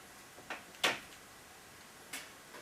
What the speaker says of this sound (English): Push it on until you hear a little click.